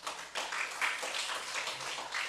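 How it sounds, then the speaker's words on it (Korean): A church congregation applauding together during a revival meeting, a dense continuous wash of many hands clapping at moderate distance, sustained throughout. "하나님께 영광의 박수 돌리겠습니다"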